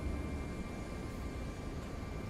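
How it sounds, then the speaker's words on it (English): An Airbus A340 auxiliary power unit starts in the iniBuilds A340 flight simulator, producing a steady, loud broadband rush with a constant whine running underneath, alone without talk. "And we'll start the APU and we'll take a listen."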